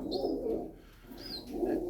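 A play pigeon coos close by in two soft, throaty bursts separated by a short pause, with no talking.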